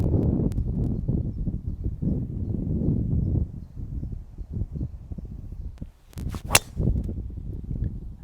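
A golfer's driver strikes a ball off the tee on a fairway hole, one sharp crack standing out briefly over steady outdoor wind and background rustle.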